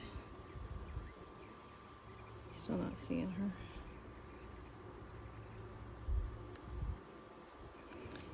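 Honeybees drone in an open hive during an inspection, a continuous low insect buzz at moderate distance, with a person briefly speaking partway through.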